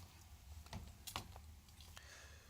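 Keys on a laptop keyboard click in quick, irregular taps at close range, soft and sparse against a quiet room.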